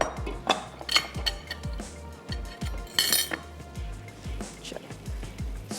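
Peanut butter noodles being mixed in a pan with a utensil make a run of irregular metallic clinks and scrapes, fairly close and steady throughout.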